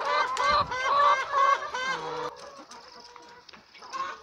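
Caged chickens on a poultry farm cluck and squawk in a busy, overlapping chorus, loud and close, with the calls thinning out toward the end.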